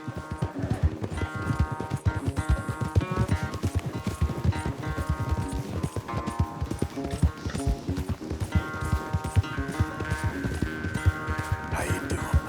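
Horse hooves pound at a fast galloping rhythm during a race in Red Dead Redemption 2, steady and dense throughout, with music playing over them.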